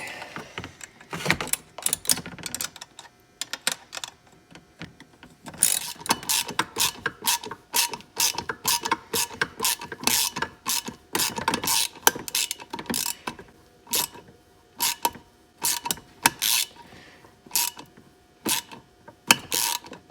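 A fitting on a VW Autostick clutch servo being tightened by hand tool, giving a long run of sharp, evenly spaced ratcheting clicks that pick up after a quiet start, with no speech.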